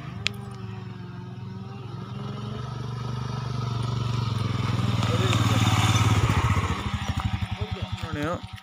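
A 2021 Royal Enfield Himalayan riding off-road, its single-cylinder engine droning steadily and rising in revs before breaking into a rough, pulsing chug near the end, close and loud.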